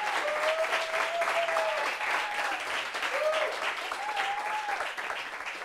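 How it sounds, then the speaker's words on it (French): Sustained applause from a talk show studio audience, dense and even clapping throughout, with scattered shouts and a raised voice riding on top of the crowd. "Applaudissements, applaudissements, applaudissements,"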